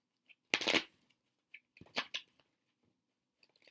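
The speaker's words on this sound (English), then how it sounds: "I know some people like to watch me shuffle" Crisp riffling bursts of playing cards being shuffled, two main shuffles with small taps between, close and otherwise quiet.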